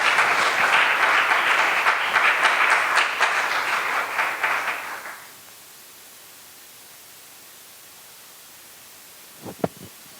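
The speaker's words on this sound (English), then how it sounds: "So another round of applause for Bylaw." Audience applause at a community leaders' appreciation event held by ISKCON Chicago, a dense burst of clapping lasting about five seconds before fading to near silence, followed by a couple of faint knocks.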